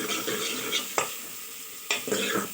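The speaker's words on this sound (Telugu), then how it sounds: "ఇప్పుడు టమాటా వేసేస్తున్నా. టమాటా వేసి కొంచెం కలుపుకుందాం." Tomato pieces dropped into a hot frying pan and stirred, with a continuous sizzle broken by two sharp clatters of the spoon against the pan, then more stirring scrapes.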